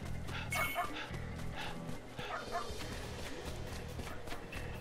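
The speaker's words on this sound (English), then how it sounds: "I guess that dog is starting to bark again." A dog in the video game Like a Dragon: Ishin barks several times over busy game ambience, with faint background voices.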